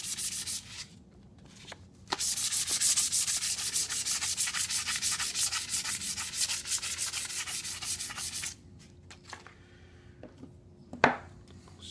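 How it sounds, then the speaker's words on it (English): Hand sanding with fine 400-grit sandpaper on a piece of scrap PVC pipe, heard as a close, rapid back-and-forth rasp of regular strokes for several seconds, then quieter handling noises and a single knock. "This is some pretty slick sandpaper. It's a real fine grit"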